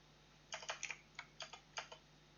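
Quick, uneven bursts of typing on a computer keyboard sound close but soft, with about seven or eight sharp key clicks in a loose cluster over a faint steady hum.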